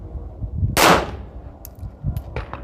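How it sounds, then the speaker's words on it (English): A single loud pistol gunshot from a handgun fitted with a red dot sight, fired outdoors while sighting in the optic, a sharp broadband crack with a short decay, followed by faint clinks and low background rumble. "Take another shot, verify."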